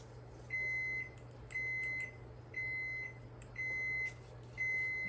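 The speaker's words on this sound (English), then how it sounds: "Oven's ready, it's heated, preheated." A kitchen oven signals that preheating is done with five evenly spaced electronic beeps, each about half a second long, over a quiet low appliance hum.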